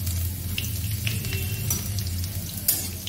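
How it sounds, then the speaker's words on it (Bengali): Dried chilli, nigella seeds and garlic frying in hot oil in a pan, a steady close sizzle with light crackles and a few soft stirring clinks. "একটা শুকনো লঙ্কা ছিঁড়ে দিলাম, আর সামান্য দেব কালো জিরে ফোড়ন, আর দিয়ে দেবো রসুনটা।"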